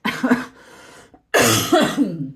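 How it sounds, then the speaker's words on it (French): Two harsh, close coughing fits, the second louder and rougher, separated by a short silence. "je fais que tousser, ça m'agace"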